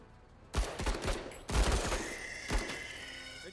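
A burst of gunfire in the tactical video game Menace: a rapid cluster of sharp shots, then a second volley and a final report, loud and close with ringing decay between, no talk.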